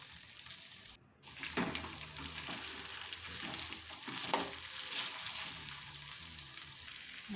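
Vegetables being stirred as they fry in a pan, a steady broadband sizzle with scraping stir strokes throughout and a brief pause near the start, close and moderately loud with no talking.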